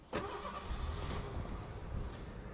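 A 1986 Ford Mustang LX with its 3.8 liter Essex V6 cranks and fires, then settles into a steady, loud idle rumble close by, with no talking.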